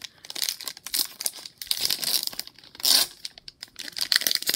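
A 2020 Score football fat pack's wrapper is torn and crinkled open up close, with bursts of crackly foil tearing and rustling in uneven spurts.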